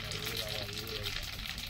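Spices crackle and sizzle in hot oil as a tempering is prepared for a shared village meal, a dense close frying hiss continuing steadily through the short moment.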